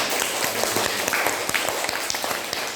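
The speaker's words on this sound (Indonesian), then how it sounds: "Tepuk tangan." Classroom students clapping together at close range, a dense, steady patter of hand claps with scattered sharper claps that runs through the whole short stretch.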